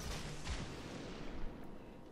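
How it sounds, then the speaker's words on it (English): Torpedoes launched from a ship in World of Warships, a muffled low boom and rushing release fading over about two seconds, fairly faint, with no talk. "launch some torps at their face"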